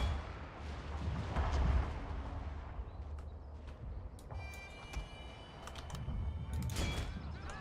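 Distant gunfire and artillery rumble through a battle in the video game Fall of the Samurai: low booming thuds, then sharper scattered cracks and bangs over a continuous muffled roar, with no voices.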